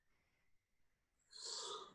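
A single sneeze bursts out near the end after a quiet, breathy lead-in, short and fairly sharp against a near-silent background during a podcast conversation.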